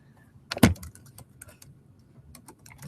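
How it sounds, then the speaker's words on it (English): Keys clatter on a computer keyboard in a short, close burst of typing during a scrum kickoff meeting, with one louder key strike followed by lighter, scattered taps and no talk. "I'll actually type it myself."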